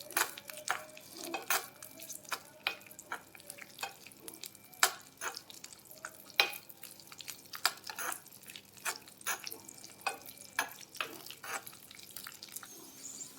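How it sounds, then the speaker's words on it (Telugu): Cashews and raisins frying in ghee in a pan, close up: a steady, fine sizzle of irregular crackles and pops with a few louder clicks from stirring, and no voices. "ఇలా జీడిపప్పు, కిస్మిస్ వేసి వీటిని ఫ్రై చేసుకోండి."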